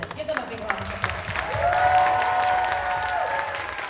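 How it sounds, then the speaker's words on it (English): Audience applause for the organizers of a Bollywood Bash 2022 show, a steady wash of clapping under a voice speaking over it, with a sustained tone running through the middle. "Give them a big round of applause."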